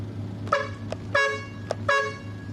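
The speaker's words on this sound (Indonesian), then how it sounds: "Dari sistem klakson sudah aman" A bus horn is tested at a bus terminal after a brake check, sounding three short, loud honks spaced under a second apart over a low steady engine hum.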